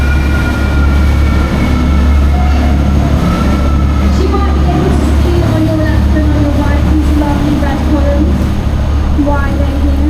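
A train rumbles across the railway bridge at Blackfriars station in London, heard from a river cruise boat passing beneath, with a steady low roar, squealing metallic wheel tones and people talking throughout.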